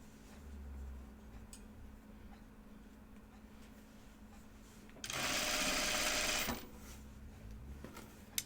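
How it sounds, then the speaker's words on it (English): Sewing machine edge stitching a skirt, a quiet background hum with one louder burst of fast, steady stitching lasting about a second and a half. "I like the look of edge stitching a lot."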